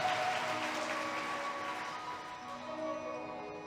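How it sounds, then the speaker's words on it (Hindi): Loud, steady applause from an audience at a spiritual discourse event in Jammu, a dense wash of clapping that holds evenly throughout with no talk over it. "जोरदार तालियों से स्वागत कीजिए।"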